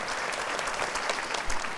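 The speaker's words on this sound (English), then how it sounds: "we want to give them all a round of applause" Audience applause for the sponsors of a health education program, a steady wash of many hands clapping at moderate volume for about two seconds, with no voices over it.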